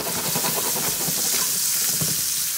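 Shrimp frying in a hot pan for lemon garlic shrimp pasta, with a dense, continuous sizzle and spatter heard up close and bubbling crackles pulsing through it.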